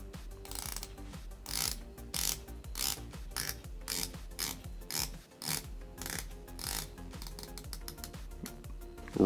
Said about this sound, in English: the bezel action on this watch is actually very good